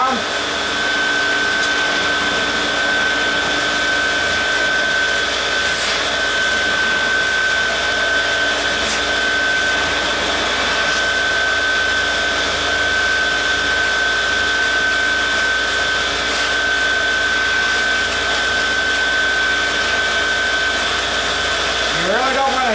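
A torch hisses steadily while heating a freeze plug in an engine block in a workshop, a continuous broadband roar with a steady tone, running throughout with faint talk in the background.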